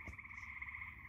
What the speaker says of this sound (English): You can hear them all around us right now.